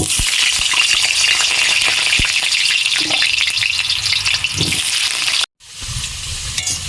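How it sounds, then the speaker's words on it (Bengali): Potatoes fry in hot oil in a wok, giving a loud, steady sizzle that briefly cuts out near the end and then returns more quietly. "তেল গরম হয়ে গেছে, এবার আমি আলুটা দিয়ে দেবো।"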